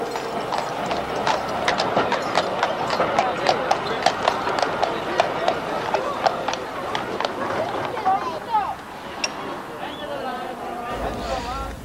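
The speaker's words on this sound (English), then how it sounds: "Meet Rocky, one of 53 horses that pull these trams up and down the Douglas Promenade each season." Steady clip-clop of a horse's hooves plodding along a hard street on the Douglas Promenade, Isle of Man, pulling a tram, joined by a rolling rumble of wheels on rails, fairly close with background chatter.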